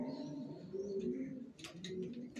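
Racing pigeons, a grizzle pair among them, coo in a steady low murmur close by, with a few brief chirps from other birds mixed in and no talking.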